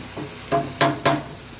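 A spoon stirs chutney powder, turmeric and salt into a pan while making Gujarati vagharela pav, giving three short scraping strokes close up over a faint background hiss.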